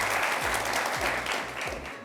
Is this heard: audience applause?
yes